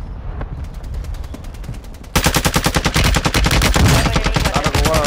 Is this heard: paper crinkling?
no